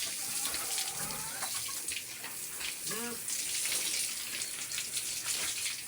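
Water splashes and sprays steadily over a pregnant pig being bathed to cool it down after feeding on a hot day, a continuous wet hiss with brief louder gushes throughout.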